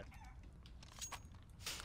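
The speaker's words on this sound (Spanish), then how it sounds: "Oye, ¿la gallina qué le pasa?" Chicken clucking from inside a CS:GO match, a few short, moderately loud clucks mixed over a dense layer of game noise and background rumble.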